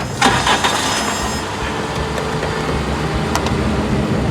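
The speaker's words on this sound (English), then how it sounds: "Start the car." A car engine cranks with a few rough bursts at the start, then settles into a loud, steady idle hum close by.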